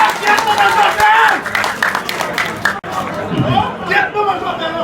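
A crowd of party activists at a political gathering claps and chatters, with loud scattered applause mixed into dense overlapping voices nearby, and a short pause partway through.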